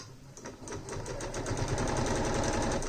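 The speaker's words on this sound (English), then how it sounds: "I want to make sure that I do a little bit of a back stitch or a lock stitch" A sewing machine runs a back stitch through baby quilt fabric, its needle clattering in a fast even rhythm that speeds up and grows louder, heard close and alone.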